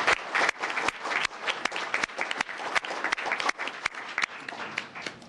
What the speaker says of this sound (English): can we give her a round of applause here?